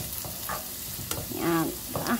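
Carrots stir-frying in a pan for spaghetti sauce, a steady sizzle with scraping stir strokes, close up, while a voice speaks briefly over the cooking.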